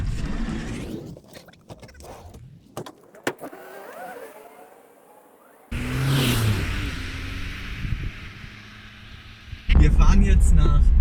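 A car on the road toward northwest Brandenburg gives a steady interior rumble of engine and tyres, with a power-window whir and handling clunks, then louder road noise later, and low voices inside.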